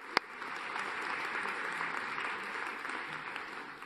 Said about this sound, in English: Round of applause for the sheriffs.